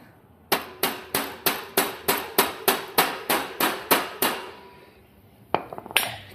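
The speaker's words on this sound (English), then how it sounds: "when I do some more hammer smackage, we don't turn this tube into an oval" A hammer strikes a heated steel tube on a girl's bike frame about fourteen times in an even, ringing rhythm, then pauses, and a few scattered metallic knocks follow.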